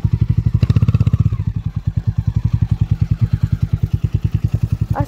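Steady rapid thudding from a 440 cc motorbike ridden off-road through an eco forest, close and loud, with a brief louder surge early on and no speech.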